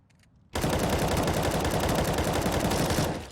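Sustained automatic fire from an M4 rifle in CS:GO, a loud, dense burst of rapid shots that kicks in abruptly and runs steadily for about two and a half seconds before cutting off.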